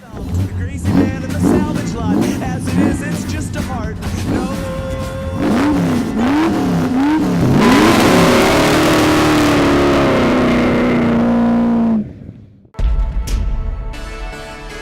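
A Chevrolet El Camino with a three-speed gearbox accelerates hard: the engine note climbs, drops at each gear change and climbs again, then holds a loud, steady drone before cutting out, heard close from inside.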